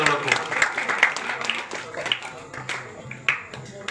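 A village audience applauds to welcome a folk dance troupe, a steady wash of scattered claps running throughout, mixed with an announcer's voice speaking over it.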